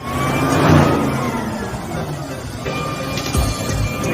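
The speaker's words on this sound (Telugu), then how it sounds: "పెద్ద మెషిన్ అనమాట, హెవీ మెషిన్." A heavy loader's diesel engine works hard while loading GSB material, a loud rumbling drone that swells and revs over steady background noise, with a clank near the end.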